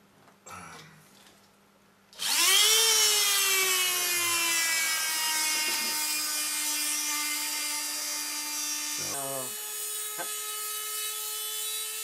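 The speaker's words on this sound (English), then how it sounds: "let me turn on my drill, my little handy dandy." A small handheld power drill whirs up to a high, steady whine while cutting a Millennium Falcon model part, and keeps running, with a brief clunk partway through.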